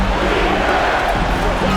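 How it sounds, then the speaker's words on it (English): Basketball arena crowd roaring after a made shot in an NBA playoff game, Cleveland Cavaliers versus Toronto Raptors, a dense, loud, steady wall of cheering fans with commentary voices mixed in. "that bucket ignites the crowd"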